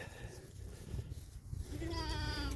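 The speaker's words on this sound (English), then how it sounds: "These sheep are going nuts." Sheep on a farm bleat excitedly over spilled dog food, with a wavering bleat rising near the end over a low background rumble, fairly faint overall.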